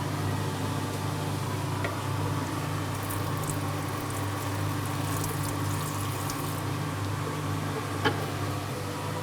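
Tap water running steadily while cleaning a Discotom cutting saw in a sample preparation room, a constant hiss and splash over a low machine hum, with a couple of faint clinks.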